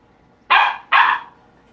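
Puppy barking twice in quick succession: two sharp, loud, close yaps separated by a short gap, with quiet surroundings before and after.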